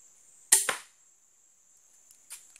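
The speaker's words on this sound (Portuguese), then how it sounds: "Eu vou efetuar um disparo aqui." An 80 lb mini crossbow releases a single sharp snapping shot at close range, followed by a brief ringing decay, then a faint click moments later over a steady high-pitched background whine.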